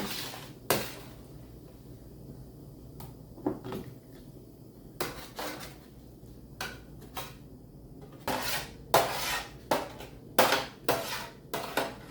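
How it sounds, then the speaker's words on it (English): A knife chops jalapenos on a kitchen cutting board in scattered sharp knocks, sparse at first and then coming in quicker clusters, with faint clinks of dishes and no talking. "I am working on cutting up all of these jalapenos"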